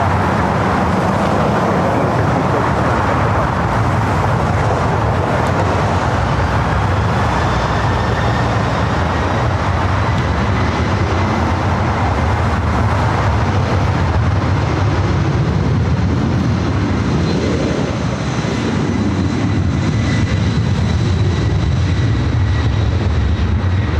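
A large jet takes off from the north side of Los Angeles International Airport, its steady engine roar building and swelling over about twenty-four seconds, loud and continuous with no talk.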